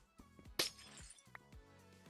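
A glass pane shattering in Minecraft, one sharp breaking crash standing out over quiet game music and other soft in-game sounds.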